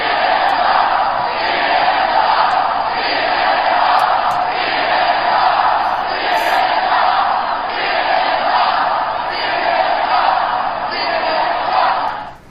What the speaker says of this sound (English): crowds at the Trump rally, like we saw last night, hey, Don, hey, Jeff Zucker, they were chanting at you.